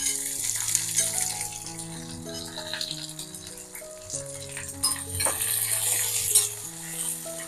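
Curry leaves and small shallots frying in oil with tempering vadagam, a steady sizzle and light stirring rattles under background music.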